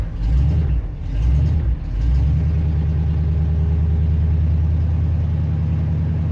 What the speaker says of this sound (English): when I let off here, we're still maintaining a pretty high idle